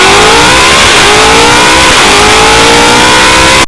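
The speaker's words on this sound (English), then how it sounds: "My favorite car is the Ford Mustang GT500 Code Red by Fat House Performance." A Ford Mustang GT500 Code Red by Fat House Performance revs hard, a very loud, sustained engine howl that climbs in pitch in repeated rising sweeps, close by with no voices.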